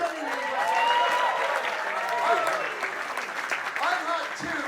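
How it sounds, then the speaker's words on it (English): An audience at a comedy show claps, giving a sustained round of applause with some voices and whoops mixed in and continuing at a steady level. "give yourselves a round of applause"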